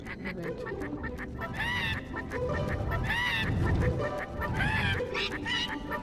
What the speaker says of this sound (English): For many years, I trained these birds to sing.